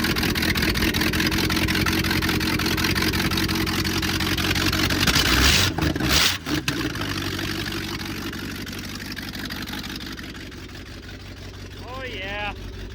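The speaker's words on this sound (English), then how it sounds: "Because we have so many vacuum leaks, so we got no exhaust." A loud half-ton truck engine runs with vacuum leaks and no exhaust, a rough, steady roar that holds throughout with a brief break midway and fades slightly near the end, as a voice briefly speaks.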